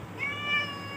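A pet cat named Pujima gives a single close, drawn-out meow in a quiet room, the tone rising and then fading, with no talking.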